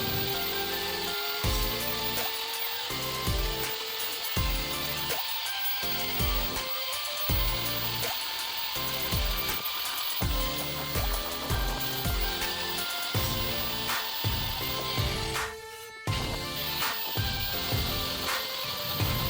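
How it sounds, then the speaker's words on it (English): Harbor Freight belt sander cleaning a corroded battery tray, a continuous gritty whir with pulsing scraping strokes, close and fairly loud, briefly cutting out near the end before resuming. "check out the difference with this belt sander"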